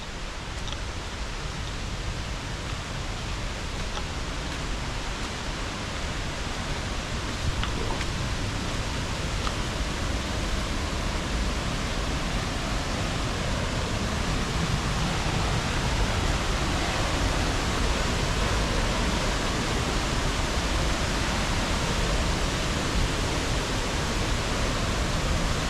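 Water rushes and roars steadily at Ella Wellawaya waterfall, a broad continuous wash of sound close by that stays even throughout, with no talk.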